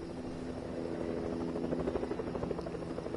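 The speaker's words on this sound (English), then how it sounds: "Oh, there's Heli." A helicopter in a video game, its rotor producing a steady low pulsing thrum that grows slightly louder and more rhythmic toward the end, with no talking.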